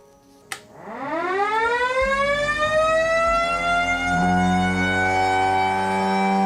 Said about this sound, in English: it set off the whole like nuclear warhead warning siren for the whole entire park